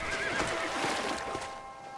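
A horse in the video game Red Dead Redemption lets out a loud, close whinny, with faint hoof clip-clop beneath it and no talk.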